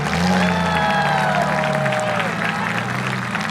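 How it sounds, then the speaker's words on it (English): A crowd applauds and cheers in the stands at a county demolition derby for limited weld compact cars, a steady wash of clapping under a loudspeaker voice and engine rumble. "So guys, give a big round of applause."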